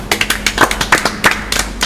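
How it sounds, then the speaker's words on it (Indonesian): A small group in a hospital psychiatric ward claps for a patient, a quick run of close, sharp hand claps, uneven and loud, lasting under two seconds. "Beri tepuk tangan dulu buat Mas Himam."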